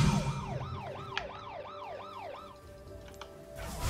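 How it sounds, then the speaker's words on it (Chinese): A police car siren from the League of Legends video game wails in a steady rising-and-falling cycle, about six sweeps over a few seconds, fairly loud over busy game background sounds, then fades out near the end. "还要来警车"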